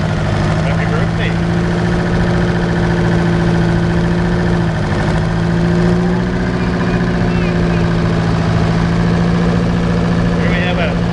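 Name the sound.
Oliver 88 diesel tractor engine running in a parade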